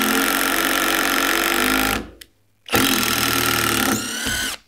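A SKIL 12V PWRCore cordless drill drives 3-inch drywall screws with a loud, close high-pitched whine, cutting off briefly after two seconds, then whirring again into a second screw and winding down at the end.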